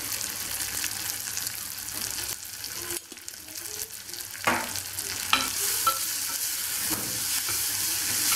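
Onion sizzles in a pot with turmeric and ginger for lentil soup, a steady close frying hiss broken by a brief pause and several stirring scrapes and knocks.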